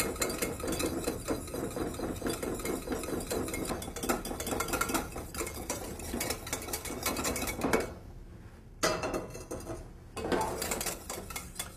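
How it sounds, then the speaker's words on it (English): Butter is mixed into egg yolks in a bowl for herbed Bearnaise sauce, with quick, steady clinking and scraping of utensil against the bowl, close and fairly quiet, pausing twice briefly before resuming. "We add it slowly into it. Mix it with the egg yolks."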